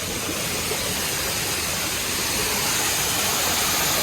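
Continuous rushing roar of Palurkotta waterfall, a steady hiss of falling water with no voices.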